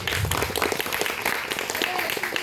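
An audience claps for a school children's play, with dense, continuous applause filling the room and faint voices mixed in underneath.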